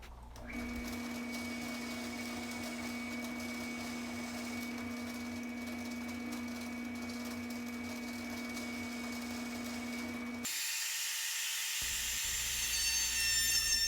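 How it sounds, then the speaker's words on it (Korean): A router runs for about ten seconds with a steady whine while cutting a 9 mm deep groove in a wooden tabletop, then a shift to a higher, harsher tone at the end. "상판 홈에 트리머 작업하기 전에 9mm 깊이로 보울링 작업을 합니다"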